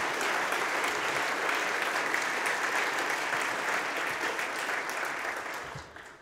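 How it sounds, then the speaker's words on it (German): Sustained, dense applause from a seated audience welcoming guests at a business association's annual general meeting, loud and even throughout before tapering off at the end, with no talking over it. "mit einem starken Beifall bitte ich Sie alle herzlich zu begrüßen"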